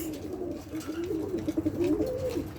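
Tumbler pigeons, freshly caught strays, coo softly and repeatedly in a close, steady murmur of low throaty calls with no talk.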